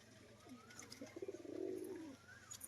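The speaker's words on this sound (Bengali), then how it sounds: "দুটো পায়রা আপনাদের দেখিয়ে দিলাম" Kaldoma pigeons, a male and a female with tagged legs, give a soft, rolling coo that swells to a fuller burst in the middle, quiet and close against faint background noise.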